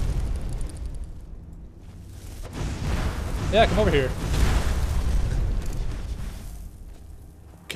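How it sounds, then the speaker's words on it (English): A huge explosion in the Skyrim video game during a Miraak fight, a broad rumbling blast swelling midway and rolling on for several seconds while someone talks over it. "that explosion is so unnecessarily huge and loud"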